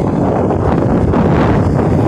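Wind buffeting a microphone outdoors, a loud continuous rumbling roar with no pauses and no talk.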